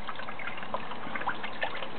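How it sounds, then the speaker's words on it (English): Water trickles and dribbles steadily as a battery-powered sump pump pushes descaling fluid through a thin tube into an outboard motor's water intake, with faint gurgles and a low, continuous liquid texture throughout. "a sump pump pumping the descaling fluid directly into the water intake hole of the lake"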